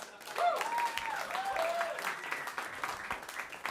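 Applause from an audience at a comedy roast battle, a fairly soft wash of clapping with cheers and whoops layered on top and voices mixed in.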